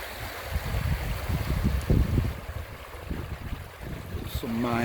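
A shallow stream in the Scottish Highlands in winter rushes as a broad, steady wash of water noise close by, with some low rumbling handling sounds and a brief tonal squeak at the end.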